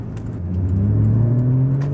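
A Porsche Cayman's flat-six engine revs up in manual mode, a steady rising engine tone climbing through the revs, loud and close, with no talk over it.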